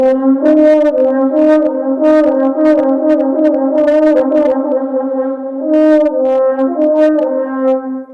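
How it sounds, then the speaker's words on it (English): A French horn plays a lip trill exercise alone, rapid alternating notes repeating in short phrases, close and loud. "doing this trill exercise can help with that"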